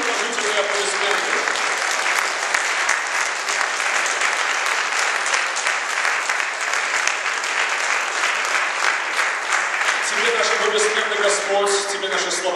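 A church congregation in Orel applauds during a sermon by an archbishop, producing a long, full burst of hand clapping that lasts around ten seconds before a voice resumes speaking.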